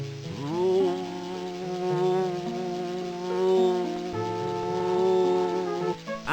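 Buzzing hum of a booster station in the video game Normality, a steady droning tone with wavering pitch layers that holds for several seconds at moderate level, with no speech over it.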